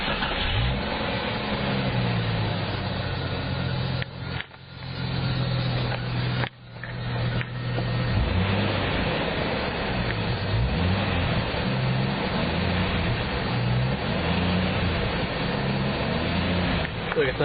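Jeep Cherokee engine running with a faulty drive belt, a loud continuous squeal riding over the engine drone, with two brief dropouts partway through.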